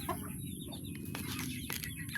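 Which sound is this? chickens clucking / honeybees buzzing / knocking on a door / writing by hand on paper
chickens clucking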